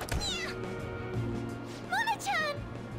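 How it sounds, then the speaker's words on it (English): Cat meows in the video game Persona 5, two or three rising and falling high cries, fairly close and clear over a steady game music and sound-effect background. "What the? Goddamn cat!"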